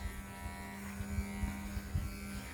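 Electric dog grooming clippers fitted with a number 4 comb (12 mm) buzz steadily at close range while trimming Lexi's coat, the drone holding a constant pitch with small surges as the blade moves through the fur.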